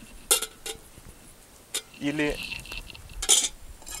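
A metal camping kettle and cookware clink and rattle in a few sharp bursts on a rocket stove in a forest, with a brief scrape and a short spoken word in between.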